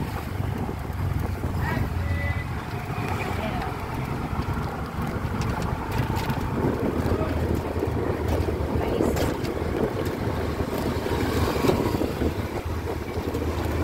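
Steady wind rushes and buffets against the microphone over a low motor hum while riding an e-trike through Naga City streets, with faint traffic noise in the background.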